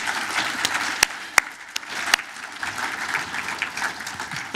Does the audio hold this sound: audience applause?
yes